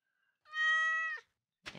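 A single clear meow from a cat in Stardew Valley, close and distinct against silence, followed by a brief soft noise.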